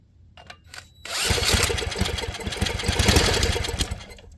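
Scrapped 3hp dual-output Tecumseh small engine being spun until it fires, a faint whir first, then a sudden loud run of rapid, rough putting beats held steadily close by.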